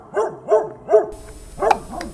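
Several dogs bark in quick succession, four or five sharp, fairly loud barks at an uneven rhythm, with faint hiss behind them and no talking.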